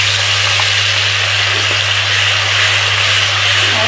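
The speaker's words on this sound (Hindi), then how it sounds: "हींग का तड़का लग चुका है।" Steady, close sizzling of asafoetida frying in hot oil for a tempering, a constant bright hiss with a low electrical hum underneath.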